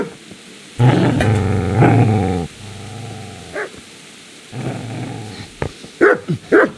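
A dog in Kingdom Come Deliverance growls in long rumbling bursts then lets out several sharp barks, close and loud with gaps between.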